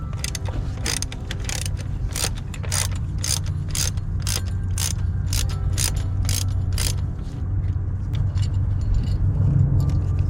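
Ratchet wrench clicking in rapid repeated bursts while loosening Torx fasteners on a BMW F30 335i N55 engine during spark plug replacement, close and loud over a steady low garage hum.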